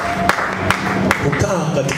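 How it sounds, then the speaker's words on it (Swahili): A church congregation claps for Jesus during a sermon. The claps come in a steady rhythm under a preacher's voice. "Hebu mpigie Yesu makofi mazuri."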